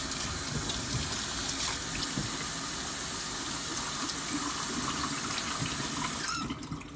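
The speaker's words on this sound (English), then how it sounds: "I'm going to wash my hands" Hands are washed under a steadily running tap that pours loud and close for several seconds before it eases near the end; the hands had knife-sharpening grit on them.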